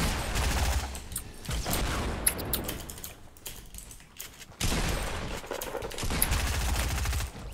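Rocket launcher blasts and gunfire in a Fortnite match: dense, loud bursts of rapid shots and explosive cracks, a brief lull near the middle, then another heavy volley.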